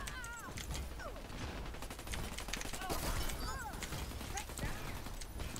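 Rapid gunfire bursts crackle in the first-person shooter Dirty Bomb, mixed with game effects and a player talking over the action.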